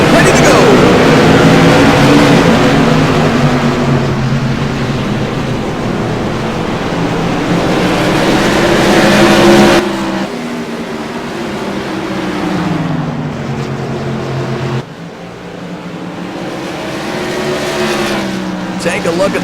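CRA modified race cars roar up to speed on a green flag restart at New Smyrna Speedway, engines loud and rising in pitch, with a commentator talking over them throughout.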